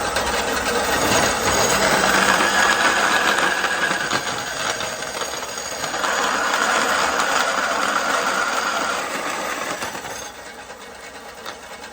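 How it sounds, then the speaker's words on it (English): A bandsaw cuts a bushcraft knife blank, a steady close mechanical whir with a gritty buzzing cut that eases off slightly midway and drops to a softer running hum near the end. "we'll fire up the bandsaw and we'll carry on for a bit."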